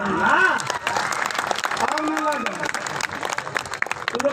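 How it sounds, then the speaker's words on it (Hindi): At a live Birha folk music performance honoring Baba Sahab, audience members clap in respect, a scattered patter of hands heard beneath a singing voice and talk. "वो लोग एक बार सम्मान में हाथ उठा करके ताली बजाएंगे"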